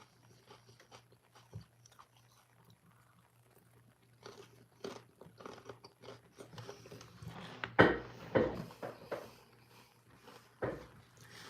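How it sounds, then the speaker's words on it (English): Crunchy bites and chewing of food during a casual live-stream lunch break, close and intermittent, growing louder and denser in the second half with a few sharper crunches. "I'm tired of chewing."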